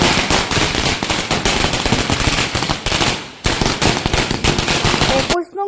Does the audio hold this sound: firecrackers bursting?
yes